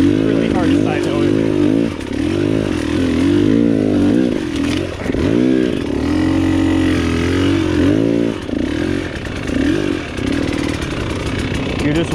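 An enduro dirt bike engine revs and bogs while side hilling across soft, loose ground, a loud close rider-mounted drone rising and falling in pitch throughout, with a rider's voice talking over it.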